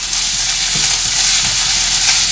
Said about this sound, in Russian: Так, все, зажарочка. Жарится.